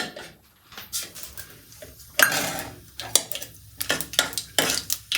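Laiya seeds tempering in hot refined oil for an amaranth greens dish, giving sharp, irregular crackles and pops up close, coming in quick clusters between brief quieter gaps.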